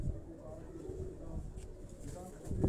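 Pigeons in a keeper's loft in Quetta coo continuously, low and throaty, with one bird held in a hand nearby and a muffled background hum.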